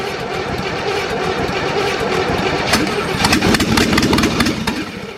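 An engine cranks and catches, building into a loud, close, rough running roar that grows stronger toward the end, with no talking.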